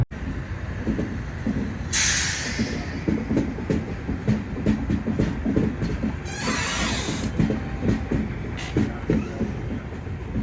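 The Secunderabad to Vasco da Gama bi-weekly express runs along the track with continuous rumbling and rhythmic clickety-clack of wheels over joints, plus a few loud bursts of hissing rush; no one speaks.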